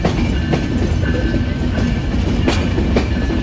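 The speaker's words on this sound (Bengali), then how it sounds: "এই হচ্ছে আমাদের ট্রেনের ইঞ্জিন, লোকোমোটিভ। এই আওয়াজটা অনেক ভালো লাগে" Rail coaches on a Bangladeshi express train rumble steadily from close by as it runs into a station, with regular clickety-clack wheel beats and a faint tonal whine over the low roar.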